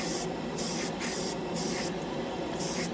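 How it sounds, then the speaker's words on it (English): An airbrush sprays Black 3.0 paint onto a Gundam plastic piece, with short hissing bursts repeating in an irregular rhythm over a steady background hiss, close up. "You're just going to get that first layer on with the airbrush"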